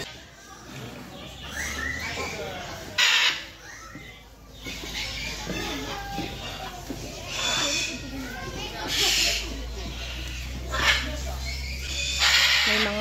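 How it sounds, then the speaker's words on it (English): Birds call and chirp at an outdoor aviary, with scattered bursts of tweeting over nearby conversation, a voice and steady wind noise. "Feel na feel mo talaga yung mga birds kasi nakawala lang sila."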